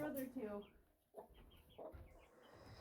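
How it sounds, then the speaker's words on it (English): Soft clucking from chickens walking around a backyard flock, a few short clucks and calls, fairly quiet and close with faint background noise. "all the chickens are walking around here, looking in, looking out"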